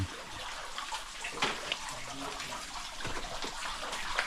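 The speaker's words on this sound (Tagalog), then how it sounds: "lahat ng tubig na galing sa mga bukal dito lumulubog" Spring water in a forest sinking away into an underground river, a steady, fairly faint trickling and gushing flow with small splashes, no talk.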